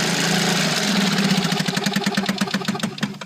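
A Johnson 2 hp outboard motor running close by, a loud buzzing two-stroke drone that settles into a quicker, pulsing putter as it drops toward idle.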